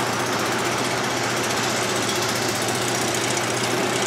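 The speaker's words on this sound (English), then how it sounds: "I'm gonna try to get an exhaust clip for you guys right here." Ford F-150 pickup exhaust with a leaking exhaust manifold, a rough, rapid, tractor-like chugging drone, steady and loud for the full length with no voices.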